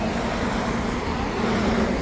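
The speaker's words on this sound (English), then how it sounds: "Sorry about the car traffic." Steady road traffic on Route 544, a major highway into Myrtle Beach, passing beside an outdoor Mother's Day flea market and yard sale, a continuous even wash of car and truck noise with no gaps throughout.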